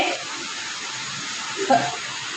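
Water poured into an idli steamer pot in a home kitchen, a steady soft rushing pour with a brief louder splash near the end.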